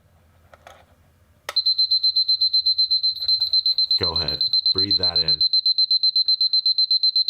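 Seiko bedside alarm clock beeping, a rapid, evenly pulsed high-pitched electronic beep that starts suddenly and repeats steadily, loud and close, while someone speaks briefly over it.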